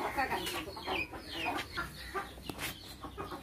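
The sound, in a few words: chickens clucking at a village house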